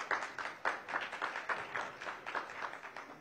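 Sustained crowd applause with dense, steady clapping rising and falling in waves, fairly distant and without voices on top.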